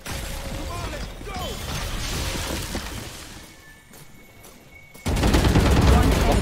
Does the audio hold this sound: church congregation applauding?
no